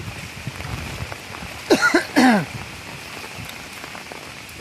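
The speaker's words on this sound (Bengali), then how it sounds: "কমছে না বৃষ্টি" Heavy rain pours steadily over a flooded village with ponds and rice fields, a continuous close hiss interrupted midway by two brief loud bursts, likely a cough or throat clearing.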